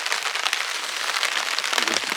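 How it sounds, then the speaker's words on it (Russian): Rain pours steadily at an autumn fishing camp on the Kola Peninsula, a dense, even hiss of drops drumming on surfaces close by, with no voices. "Дождь поливает"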